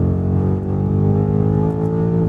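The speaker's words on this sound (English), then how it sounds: "the way they blend what little decent noise a modern twin-turbo V8 gives you" A deep, steady twin-turbo V8 drone from a BMW M5 holds under load, rising slightly in pitch as it revs, loud and continuous with no talking.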